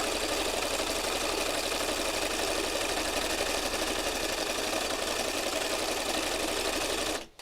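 A sewing machine runs in one loud, continuous burst for about seven seconds, stitching a fabric heart, then stops abruptly.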